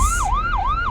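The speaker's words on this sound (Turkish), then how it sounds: "bu ambulans sesi de ne Ya birisine bir şey mi oldu Allah korusun." An ambulance siren in a Minecraft game wails loud and close, its pitch sweeping up and down in a fast repeating cycle.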